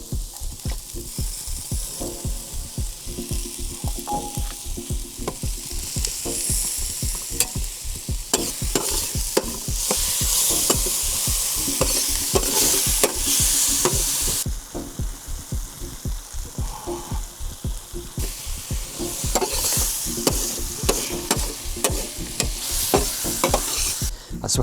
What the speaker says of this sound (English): We're gonna mix the rice through and sort of fry it a little bit